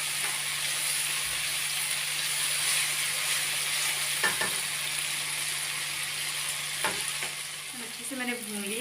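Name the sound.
ginger and garlic sizzling as they are fried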